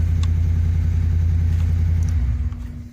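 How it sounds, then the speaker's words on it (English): A 2013 Ford F-150 XLT pickup truck engine idles with a steady, deep rumble close by, then eases off and quiets slightly near the end. "You can hear the truck running."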